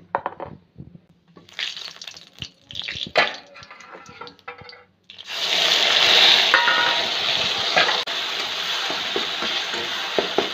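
Ground masala, including ground onion, hitting hot oil in a pan over a medium flame, first scattered clinks and scrapes, then a sudden loud, continuous sizzling hiss that holds steady close by.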